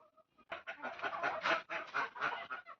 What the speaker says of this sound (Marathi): ते बदक बघ कसे कुरुक कुरुक करत आहे